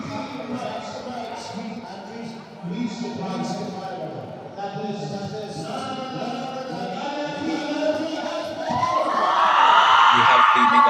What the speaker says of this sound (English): As you can also hear the loud cheering from the crowds.